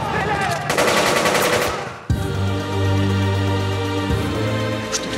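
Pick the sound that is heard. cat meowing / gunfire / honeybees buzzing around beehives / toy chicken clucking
gunfire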